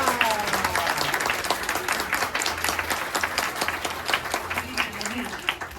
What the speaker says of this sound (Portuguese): salva de palmas pra Angélica